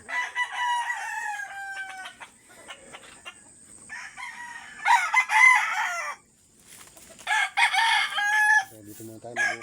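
Roosters crow repeatedly, loud and near, with hens clucking in between under a mango tree; several long crows overlap with shorter calls and brief pauses.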